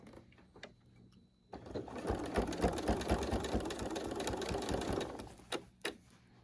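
A sewing machine stitches fabric for Christmas ornaments and hot pads in a dense, rapid, steady run of about three and a half seconds, with a few quieter clicks and handling sounds before and after.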